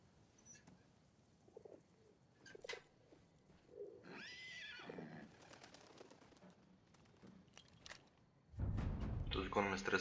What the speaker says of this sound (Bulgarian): Този кон ме стресна.